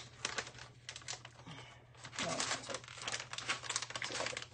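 Crinkly plastic packaging being worked open by hand while making vegan lentil tacos, with bursts of close crackling and crumpling over a low steady hum.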